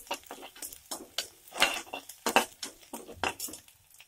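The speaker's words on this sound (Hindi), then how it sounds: "इसको सौते कर लेंगे" Garlic and cinnamon sautéing in a pan for restaurant-style vegetable soup, heard as close, irregular sizzling with scraping and stirring clinks of a spoon against the pan over a few seconds.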